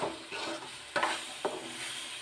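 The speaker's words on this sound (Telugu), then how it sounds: "ఇలా అడుగంటకుండా కలబెడుతూ ఉండాలండి." Food being stirred in an oiled frying pan to keep it from sticking, a soft continuous sizzle with a couple of distinct scraping knocks from the spoon against the pan.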